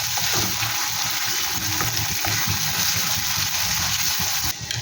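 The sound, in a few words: frying grated onion for paneer bhurji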